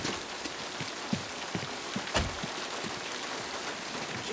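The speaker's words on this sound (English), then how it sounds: "I didn't hear you in all this rain." Heavy rain pours down steadily in a scene from the 1960 film Psycho, a dense even wash of falling water with a few louder drops and splashes standing out, heard on its own with no talking.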